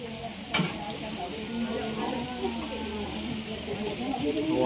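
Steady sizzling of fried shallots in a pan, a continuous crackling hiss with stirring and a brief clank early on, close and fairly loud.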